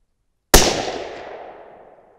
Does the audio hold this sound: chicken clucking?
no